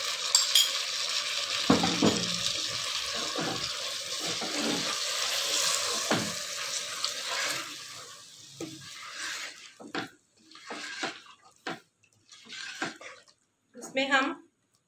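Sauce stirred and frying in a cooking pot during Indian dawat dish preparation gives a loud, steady sizzling hiss for the first half. It then fades into quieter scraping, with someone talking over the later part.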